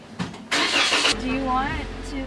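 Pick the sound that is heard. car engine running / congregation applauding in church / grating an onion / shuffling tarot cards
car engine running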